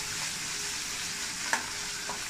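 Coriander leaves and mango sauté in a hot pan with a steady, close sizzle and one brief clink of a stirring spoon.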